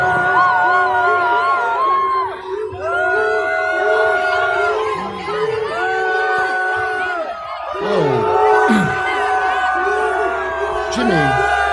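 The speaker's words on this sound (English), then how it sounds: "Ilhan Omar got booed at a concert in her own district by Somalians." A large concert crowd in Ilhan Omar's own district jeers and boos her, with loud sustained bellows, whoops and yells overlapping continuously at close range.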